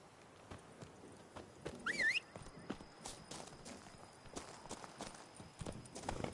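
A horse clip-clops steadily along a road in The Witcher game, hooves striking in an even rhythm at moderate distance, with a brief whistle-like call around the second beat and a faint background hum.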